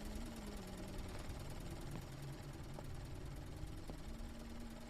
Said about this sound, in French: Il y a quelqu'un qui a démarré le moteur thermique là.